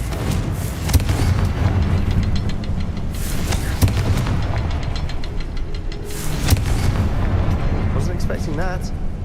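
A Confringo fire spell explodes in Hogwarts Legacy, with loud booming bursts rising over a dense, rumbling game soundscape; a voice speaks briefly near the end.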